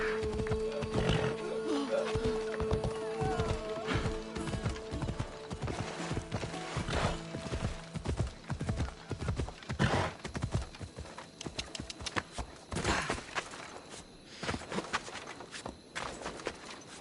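A horse gallops in Assassin's Creed Odyssey, its hooves beating a rapid, steady clip-clop close by, with an occasional whinny and a brief spoken word over the hoofbeats.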